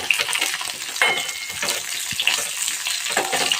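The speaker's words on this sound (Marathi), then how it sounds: "थोडीशी कोथिंबीर सुद्धा मी तळून घेणार आहे" Coriander leaves fry in hot oil in a pan for a rava and besan dhokla tempering, giving a steady, close crackling sizzle with occasional stirring scrapes throughout and no voices.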